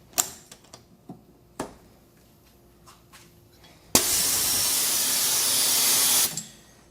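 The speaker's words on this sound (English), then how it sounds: "The air compressor line to the gun exploded." A sandblasting gun's air compressor line bursts with a sudden loud blast, then a harsh, continuous hiss of escaping air for about two seconds before cutting off, after a few scattered clicks and taps.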